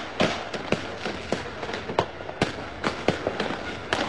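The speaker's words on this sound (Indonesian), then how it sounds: "itu tembakan yang dilakukan oleh pihak kepolisian ke arah rumah" Police gunfire aimed at a house during a night-time terrorist raid, heard as a rapid, irregular string of sharp cracks and pops, some loud and others more distant, echoing over a steady background.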